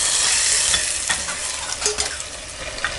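Hot tempering being stirred into milk in a pan gives a bright, hissing sizzle that fades a little. Soft spoon scrapes and taps continue close by.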